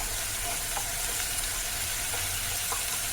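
Ginger-garlic paste sautéing in hot oil in a pan for hotel-style paneer butter masala, giving a steady, fairly quiet frying sizzle with a few soft stirring clicks and no talking.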